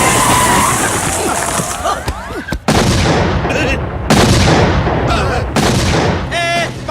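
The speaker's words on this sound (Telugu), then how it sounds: "బాంబు పేలింది" A bomb blast goes off in a comedy film scene, with loud, dense bursts of crashing and cracking debris amid a busy cinematic soundtrack, several sharp impacts punctuating a continuous roar across the scene.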